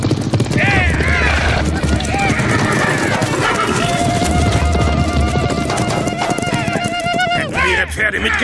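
Horses gallop in a rapid clattering rhythm under a loud dramatic music score, with whinnies and other busy action sounds layered on top, in a cartoon episode of Yakari.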